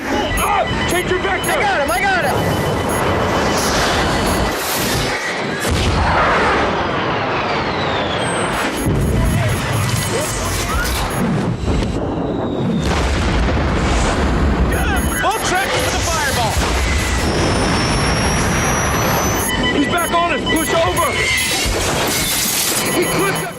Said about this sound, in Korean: 갑자기 날아오는 미사일에 긴급 회피에 돌입하는 전투기 하지만 적의 미사일은 한두 발이 아니었으니